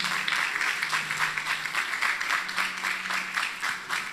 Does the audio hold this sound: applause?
yes